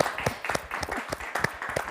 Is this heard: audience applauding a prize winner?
yes